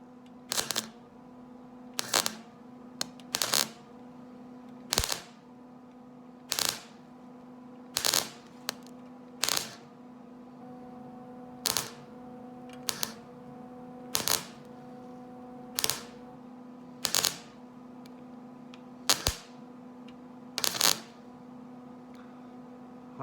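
A welder tack-welds a metal gazebo frame, producing a series of short, sharp crackling bursts spaced about a second or two apart over a low steady electrical hum, close and without talk.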